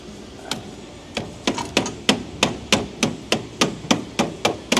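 A hammer strikes metal on an old truck frame during a frame-off restoration, a close, sharp series of about a dozen blows that start hesitantly and settle into a steady, quick rhythm with no talking.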